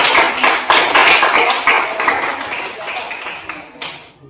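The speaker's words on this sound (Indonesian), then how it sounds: "Bagus, beri tepuk tangan." Students in a school physical education class clap together, a dense burst of hand claps that stays fairly loud and steady before thinning out near the end.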